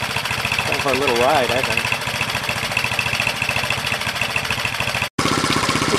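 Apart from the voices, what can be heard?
1967 Honda CL90 motorcycle engine idling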